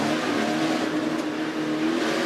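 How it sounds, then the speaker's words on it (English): A NASCAR truck engine revs hard at the Eldora dirt track, a loud sustained droning roar with steady pitch and slight rising strain, close and dominant with no voices. "As soon as he hit the wall, he gassed it up."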